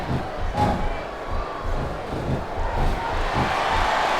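Capacity crowd cheering in a wrestling arena in the video game SVR 2007, a steady roar of voices with swelling shouts throughout, close and fairly loud.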